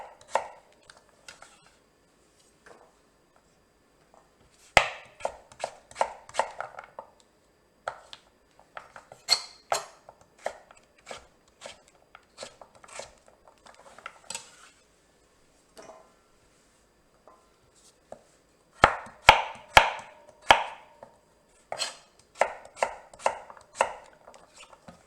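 A knife cuts and peels butternut squash on a cutting board in bursts of crisp, close chops and scrapes, with quiet pauses between them.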